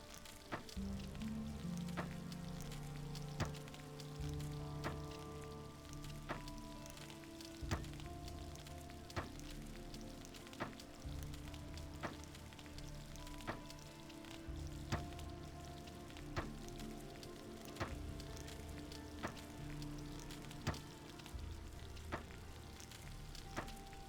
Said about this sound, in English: fried meat, and you can heal with 12 hit points. So let's just fry everything.